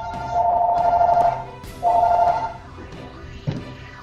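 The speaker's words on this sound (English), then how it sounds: "that was his phone, or the phone on his end" A telephone rings on the far end of a call, heard as two bursts of electronic bell tone separated by a pause, followed by a soft thunk.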